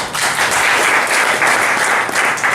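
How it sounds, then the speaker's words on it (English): Steady, dense audience applause at a sports conference, loud and close, filling the whole stretch with no voices on top. "Okay, applause."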